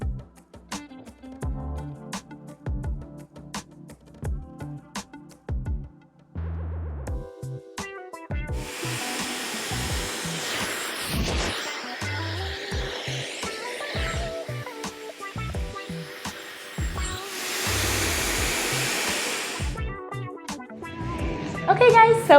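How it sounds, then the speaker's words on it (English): Hair dryer blowing blonde hair dry in a salon, a steady broadband whoosh running through the middle stretch in long blasts, mixed with comb and handling noises, with brief gaps and a louder burst at the end. "we just finished blow drying"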